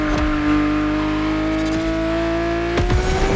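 A Lamborghini Aventador in The Crew Motorfest racing game, its engine droning loud and steady at high revs, with short gear-shift breaks in the note as it drives.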